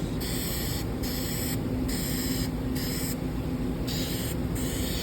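An old aerosol spray paint can hisses in steady bursts, on and off about every half second, with a sputtering, uneven, splattering spray close by.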